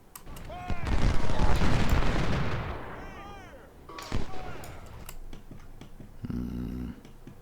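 Musket volleys and cannon fire from Civil War troops in the strategy game Ultimate General: Civil War at Chancellorsville and Salem Church, with loud rumbling blasts and crackling shots that swell, fade and return in bursts, over game sound effects.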